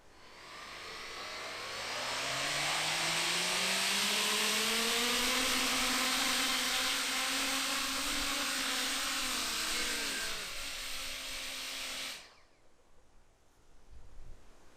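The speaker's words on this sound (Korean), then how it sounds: "드론 첫 테스트 시작합니다" Motors spinning impellers on a homemade Coanda-effect drone bowl during its first test, a loud rising electric whine that climbs in pitch over about ten seconds, holds at full power, then cuts off abruptly, leaving quiet background.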